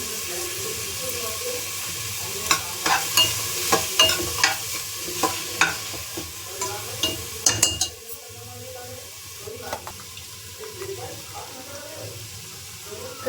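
Chilli and coriander powder sizzle in hot oil for pav bhaji, with a series of sharp stirring scrapes and clatters in the first half before settling into a quieter, steady frying hiss.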